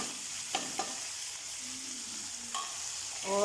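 Tomatoes, whole chilies and whole spices frying in a pan for chicken pulao, a steady soft sizzle with a few sharp clinks of a spoon stirring against the pot.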